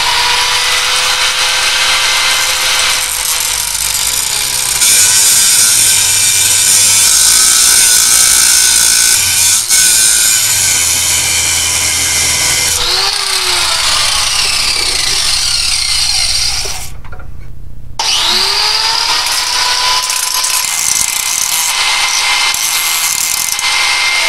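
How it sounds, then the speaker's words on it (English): Angle grinder fitted with a cutting wheel slicing through a metal axle rod for a Honda lawn mower, a loud continuous high-pitched grinding screech that shifts pitch as the wheel bites, with a brief pause before cutting resumes. "Get my grinder out here with a cutting wheel."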